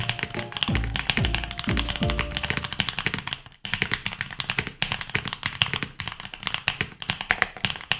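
Typing on a custom mechanical keyboard with obscure linear switches, a steady run of close, crisp key taps that follows a brief burst of music at the start.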